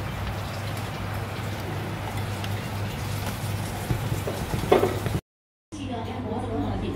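Steady crackling sizzle of flattened cassava frying in oil, close by, with brief clatter near the end and a short cut to silence.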